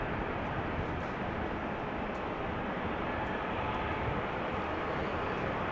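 Airliners move about on the ground at Amsterdam Schiphol Airport, a constant distant rumble of jet engines, even and unbroken, fairly faint, with no talk.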